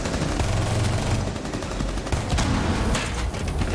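Gunfire pours into a shield in Rainbow Six Siege, a dense, continuous rattle of shots that stays loud and close throughout with no break.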